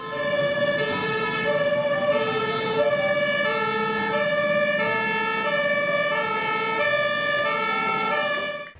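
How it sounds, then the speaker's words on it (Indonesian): A toy water cannon truck plays an electronic siren, a loud, close, steady two-tone wail with a harmonic-rich buzzy tone that runs continuously before cutting off at the end. "Di sini ada mobil water cannon."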